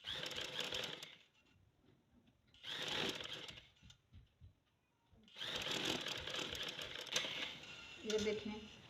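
Sewing machine running in three bursts, stitching lace along a fabric edge, with short quiet gaps between runs and faint handling noise.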